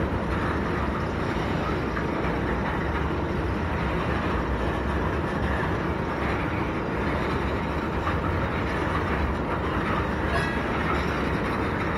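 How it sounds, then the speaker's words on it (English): A steady, continuous rumble of a train rolling past, railcars clattering along at an even pace, fairly loud and unbroken, no talking. "this train is still going"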